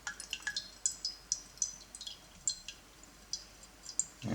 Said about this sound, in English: now I will just let the rest of the water flow into it